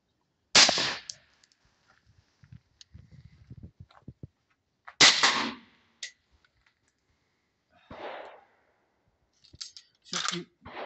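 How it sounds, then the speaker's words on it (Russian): Two sharp, loud gunshots through a BRT closed-type suppressor each strike a frying pan with a ringing metal clang, followed by a few smaller clatters and handling noises in between. "Давайте сделаем пару выстрелов с банкой по сковородке"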